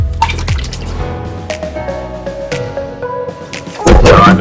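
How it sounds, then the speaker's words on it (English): Raw chicken rinsed under running water in a kitchen sink, with splashing, dripping and clattering against the basin, close and fairly loud, ending in a heavier gush of water. "I'm gonna give it a second rinse, just make sure the vinegar is come out of it."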